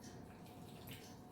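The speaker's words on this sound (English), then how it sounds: "now I'm going to add a little cold water to bind." Ice cold water pours into a bowl of pastry mix, a quiet, steady trickling wash lasting about a second.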